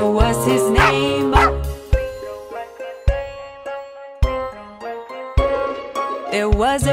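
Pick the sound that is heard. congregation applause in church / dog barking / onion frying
dog barking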